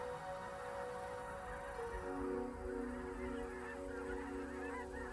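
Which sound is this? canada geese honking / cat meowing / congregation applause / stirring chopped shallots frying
canada geese honking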